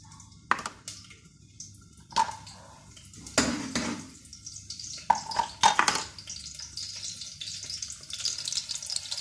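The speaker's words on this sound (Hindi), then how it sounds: "ये है आधा कप ऑयल में अनियन फ्राई हो रही है।" Half a sliced onion frying in half a cup of oil, with bursts of sizzling and crackle broken by clinks of a utensil against the pan. The spattering grows busier and steadier toward the end.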